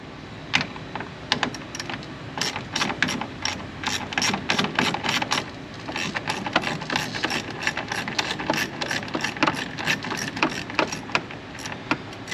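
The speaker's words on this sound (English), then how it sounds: "Oh, look at that, it's already on my ratchet." A ratchet wrench turns 10 mm bolts on a Nissan Sentra, giving rapid, close clicking in dense bursts that run almost without pause, with a faint mechanical hum underneath.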